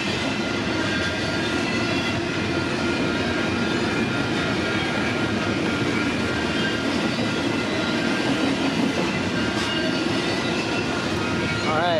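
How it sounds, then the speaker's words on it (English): A CPKC freight train rolls past close by, a loud, steady, continuous rumble and clatter of cars and wheels that holds for the full twelve seconds without a break. "symbol on this train is CPKC 113, which originates in the St. Luc Yard, Montreal, Quebec, and terminates out west in Vancouver, British Columbia"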